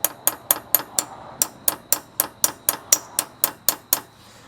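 A small metal punch is struck repeatedly with a hammer against a stuck car part. Roughly seventeen sharp, ringing metallic strikes come in an even, fast rhythm, close and loud, with no talking.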